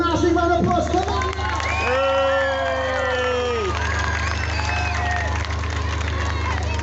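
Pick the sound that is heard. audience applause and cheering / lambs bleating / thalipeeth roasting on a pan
audience applause and cheering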